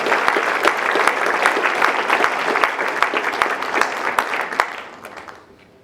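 An audience at a political town hall breaks into a round of applause, dense and sustained, with sharp individual claps standing out before it dies away at the end.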